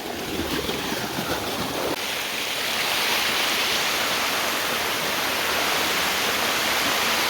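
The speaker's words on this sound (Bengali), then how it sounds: "আমার পিছনে যে ঝর্ণাটা দেখতে পাচ্ছেন, এটা হচ্ছে আমাদের এই নাপিতাছড়া ট্রেইলের প্রথম ঝর্ণা" The first waterfall on the Napittachara trail, Jhorjhori falls, pours in a constant, dense roar of rushing water, loud and close, steady throughout without any voices.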